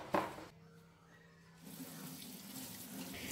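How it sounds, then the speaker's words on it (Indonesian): Running tap water splashes over dirty spring onions being washed in a sink, a brief clatter followed by a quieter lull, then the steady rush of water resuming. "saya bersihkan saja seperti itu karena ini terlalu kotor, jadi saya cuci sebelum saya simpan pada food container"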